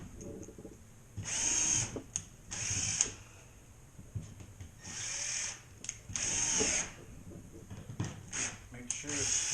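A power drill drives screws into a drywall ceiling patch being repaired after a plumbing leak. It gives about six short, loud, close whirring bursts separated by brief pauses and small handling noises.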